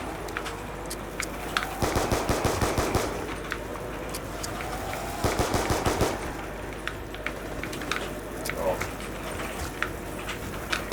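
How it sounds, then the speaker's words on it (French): Two dense bursts of rapid automatic gunfire in Call of Duty Black Ops 2 Zombies, separated by scattered single shots and game effects, all under someone talking in French. "Voilà, j'ai tiré 3 rafales je crois."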